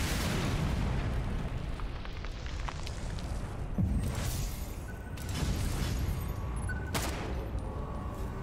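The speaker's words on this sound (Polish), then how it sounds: "O, granat." A grenade goes off in the shooter game Ghost Recon Phantoms amid a continuous rumbling roar of battle, with a deep boom near the middle and further blasts rising out of the noise.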